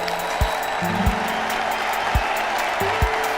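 A studio audience at The Kapil Sharma Show breaks into loud, steady applause to welcome a film director and actor, with a dense wash of clapping and a few low thuds underneath.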